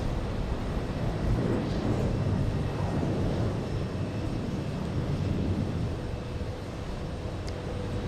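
An Embraer E190 airliner flying in from Nantucket at JFK produces a broad, steady distant jet roar that holds at even loudness throughout.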